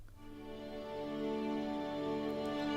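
Angel Strings sample library clusters forming an intimate string texture, a dense sustained chord of many close pitches that swells gradually and holds, played alone without talk.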